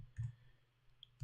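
Keys tap on a computer keyboard in a quiet room, giving a few soft, isolated clicks and a short double tap, with a steady low hum running underneath.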